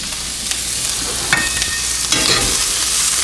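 Food sautéing in butter in a pan gives a steady, loud sizzle with a few scraping stir clicks partway through, no voices.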